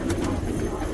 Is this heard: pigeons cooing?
yes